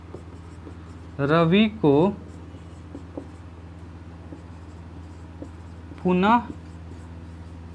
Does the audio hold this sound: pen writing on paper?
yes